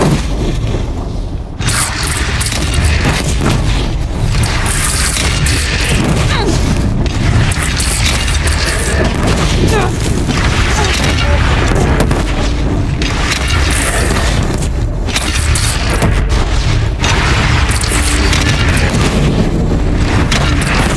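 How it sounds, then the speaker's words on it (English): Continuous battle din in Horizon Zero Dawn with repeated booming cannon shots and crashes, loud and close, under a constant roar of noise. "They only have one cannon!"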